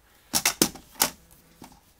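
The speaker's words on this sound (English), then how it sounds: "Now let's get my paper trimmer" A paper trimmer handled while crafting a card, a handful of sharp close clicks and snaps in quick irregular succession, with a final click after a pause.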